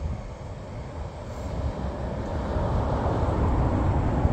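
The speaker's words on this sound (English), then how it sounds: "there's a train, like, right here" A train rolls past with a switching tank car, a continuous low rumble and rattle that builds gradually and stays loud and near throughout.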